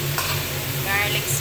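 Garlic shrimp sizzle and are stirred in a hot pan, a steady close frying hiss with soft scraping for a brief moment, no talk.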